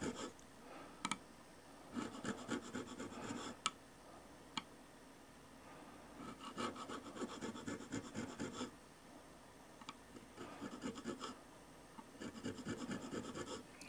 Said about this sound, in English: chase these lines with a single line checkering cutter